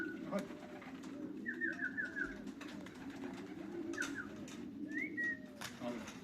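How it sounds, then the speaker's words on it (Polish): Young racing pigeons coo in low repeated rolls as they land at a loft, several birds calling over one another close by, with brief higher chirps and a faint voice in the background. "To jest dziewiąty gołąb teraz"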